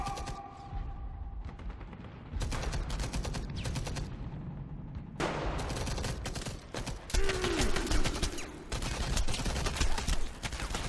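Gunfire aimed at the player in the video game Enemy Front, a war shooter with German enemies: dense rapid bursts of shots and volleys that crackle almost nonstop, loud and close, with only brief gaps between rounds.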